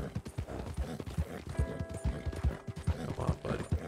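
Horse hooves clip-clopping on a trail in the video game Red Dead Redemption 2, a steady, fairly close rhythmic gait with a soft musical tone underneath.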